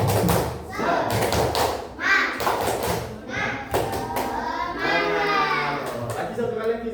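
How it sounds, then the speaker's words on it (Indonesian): An elementary class of children doing the rhythmic tepuk semangat spirit clap in a classroom, sharp patterned claps in quick bursts mixed with children chanting and a teacher's voice. "Tepuk semangat."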